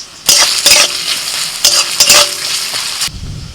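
Garlic, onion and green chillies fry in hot oil in a kadai, loud close sizzling with several sharp bursts of stirring and spatula strokes, then it stops abruptly; no speech.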